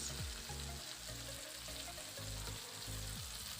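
Grated garlic sizzles in a pan for Indomie noodles, a continuous close frying hiss broken by regular scraping stir strokes, with no voices.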